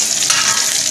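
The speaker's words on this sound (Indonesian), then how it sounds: "Ini kita goreng sampai bawang putih dan bawang merahnya" Garlic and shallots fry in hot oil with a dense, loud, close sizzle and crackle, steady throughout with faint stirring.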